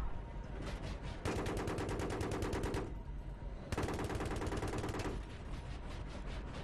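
Two long bursts of rapid machine-gun fire in Battlefield 3, loud and close, separated by a short pause, with fainter shots trailing after each burst.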